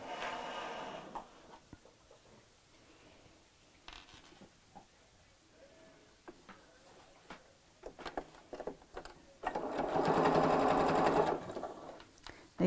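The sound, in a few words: sewing machine stitching chenille clutch bag seam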